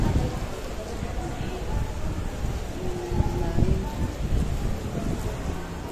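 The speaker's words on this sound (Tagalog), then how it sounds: "Lakas ng hangin." Steady broadband wind roar buffets the microphone throughout on the fourth floor of a school building, with low rumbling gusts and a faint background hiss.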